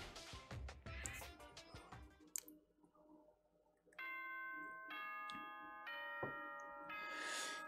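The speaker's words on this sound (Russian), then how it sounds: "Динь-дон, бинь-бон." Announcement chime from the video game Danganronpa 2: Goodbye Despair, starting with a brief clattering, then a ding-dong sequence of bright, sustained bell-like tones ringing clearly on their own, with no talking.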